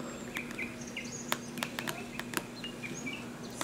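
Forest ambience in Kingdom Hearts Birth By Sleep: repeated sharp bird chirps and tweets with insect-like clicks scattered across the stretch, layered over a steady low hum.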